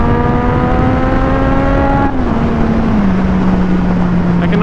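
A Yamaha FZ09 motorcycle engine drones steadily at close range during a wheelie, its pitch dropping in steps as the revs fall, over constant wind noise.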